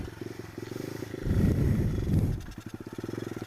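A pit bike engine chugs in first gear, snarls up to a loud surging roar as the throttle opens for a wheelie attempt, then drops back to a rapid, close, pulsing idle.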